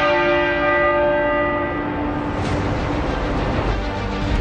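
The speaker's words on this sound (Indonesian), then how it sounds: "99 kali dentang lonceng gereja Westminster Abbey menggema di kota London" Westminster Abbey's church bell in London tolls a single ringing stroke whose tone slowly decays, followed by a fainter hum of city ambience.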